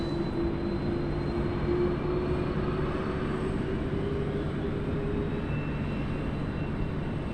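A Kuala Lumpur A330-300 airliner lands on runway 16R at Sydney Airport, a steady, fairly distant jet roar with a sustained engine tone throughout and no talk.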